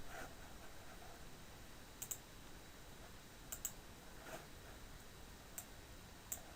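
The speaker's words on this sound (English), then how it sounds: "I'm going to click on step 2, prepare data." Sparse, sharp computer mouse clicks sound faintly and close, single or doubled, spaced a second or so apart over a low steady hiss.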